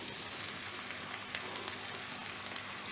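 Ingredients sizzle as they drop into hot oil for tempering while a ridge gourd peel chutney is cooked: a steady, fairly soft, crackling fry with no voices.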